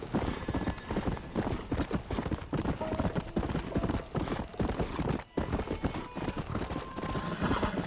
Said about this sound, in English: Oh, sorry, horse, pushing you too hard